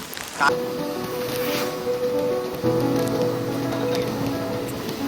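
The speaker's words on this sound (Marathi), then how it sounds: "पाऊस थोडं थोडं थांबला. असा रिमझिम पडल्यावरती खूप चांगलं वाटतं" Soft, continuous patter of light drizzling rain in the Konkan countryside with a steady background hiss and a brief tonal hum partway through; no one speaks.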